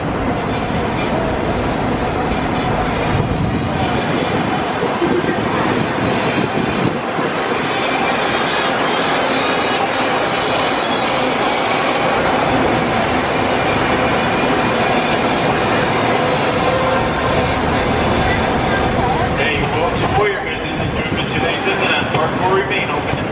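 A Disneyland tram rolls along its route with a steady loud rumble, wheel squeal and clatter throughout, while a recorded announcer's voice speaks over the ride noise.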